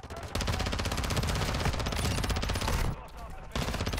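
Rapid automatic gunfire in a first-person shooter video game, a dense, steady stream of loud shots with a short break near the end, mixed with game effects.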